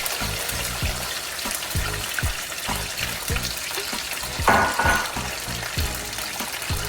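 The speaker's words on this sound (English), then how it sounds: "So first, you put your hot sauce in here by choice." Hot sauce sizzling and bubbling in a pot, a steady crackling fry with soft pops and a brief louder hiss partway through.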